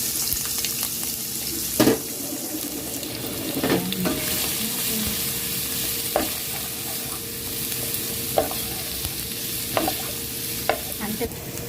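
Garlic, ginger and onion frying in oil in a pan, a steady close sizzle with occasional scraping stirs and small pops, no voices.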